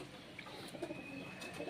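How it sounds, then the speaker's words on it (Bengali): A pigeon at a small home loft coos softly in a short, low, rounded phrase, faint against quiet background noise on a rainy day. "খুব সুন্দর একটা পায়রা।"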